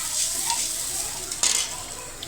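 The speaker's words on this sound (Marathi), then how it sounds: "चिंचेचं पाणी टाकलं, छान हलवून घ्यायचं." Dal seasoned with tamarind water is stirred into a sizzling tempering in a pan, with a steady close hiss of frying and soft scraping stir strokes throughout.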